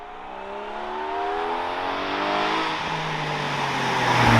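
A Porsche Cayman GTS 4.0 engine revving high, its loud rising wail climbing steadily through the revs and building in intensity toward the end.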